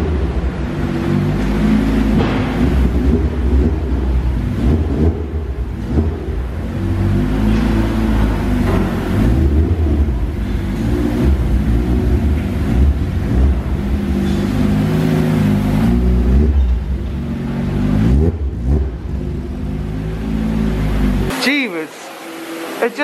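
A Lotus Exige S sports car engine rumbles steadily with low, heavy tones, rising and falling in revs, loud and close, before cutting off near the end.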